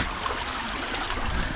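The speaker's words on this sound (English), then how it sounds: "Cute little river here." A small river flows nearby during an outdoor training run, giving a continuous faint rushing and trickling wash with no voices.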